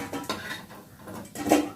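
Fried lentil fritters are lifted out of a frying pan with short scraping and clinking of a metal utensil against cookware over a soft background hiss.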